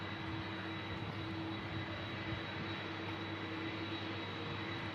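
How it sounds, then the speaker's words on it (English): Turkish Airlines Airbus A330 jet with CF6 engines, heard at an airfield as a steady, droning engine roar with a constant tonal whine, holding even and moderately distant for the whole stretch. "Sound like CF6 engines then."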